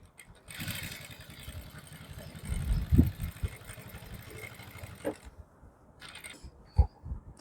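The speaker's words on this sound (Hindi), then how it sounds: "इस पट्टी पे हम यहाँ पे एक किनारे पे सिलाई लगा लेंगे, बिल्कुल किनारे पे फिनिशिंग से सिलाई लगाएंगे" A domestic sewing machine runs a steady, close mechanical whir while stitching along the edge of a fabric strip used to lengthen a kurti. The motor hums for about four and a half seconds, then stops, followed by a few soft handling knocks.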